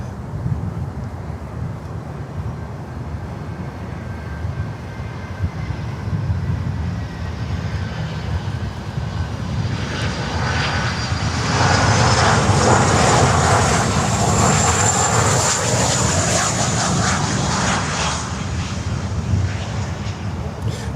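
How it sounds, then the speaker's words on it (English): A Boeing 737 freighter in Sky High cargo colours passes at Miami airport, its jet engines swelling into a loud broadband roar midway over steady wind noise on the microphone. "All right, 737 freighter, sky high cargo."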